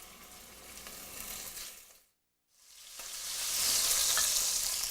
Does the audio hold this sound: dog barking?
no